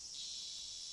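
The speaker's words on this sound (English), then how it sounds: "Even the chirping of the cicadas seemed joyful." Cicadas in the Higurashi video game, a steady high shrill drone that holds continuously without break, fairly loud and alone with no voices.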